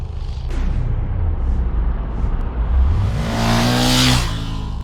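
Ducati Hypermotard 1100 L-twin motorcycle engine revving up hard and close, a loud rising roar that climbs in pitch and holds near the top, with no talk over it.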